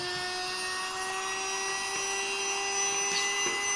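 A Beldray Revo BEL0944SL handheld vacuum cleaner motor whines steadily with a high-pitched tonal hum, running continuously up close with faint clicks and no talking.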